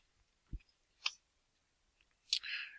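Two quick faint computer mouse clicks, separated by about half a second, occur at a quiet desk before a brighter burst of clicking and rustle near the end; no one speaks.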